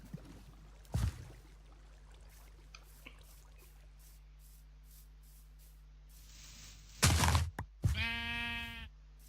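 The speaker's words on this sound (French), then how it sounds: "Il n'y a que des moutons." Minecraft sheep bleat in a survival world, two short loud bleats near the end after a quiet stretch with a few faint clicks and one brief thump early on.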